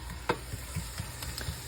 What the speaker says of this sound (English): Next, I got to fry the taco shells.